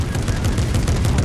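Dense, rapid video game gunfire, a continuous loud rattle of closely spaced shots heard briefly and up close.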